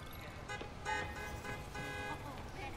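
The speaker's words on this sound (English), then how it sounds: "Stop honking at me." Car horns honk in a Spider-Man video game city street, a few short blaring toots rising over steady traffic noise, fairly quiet in the mix.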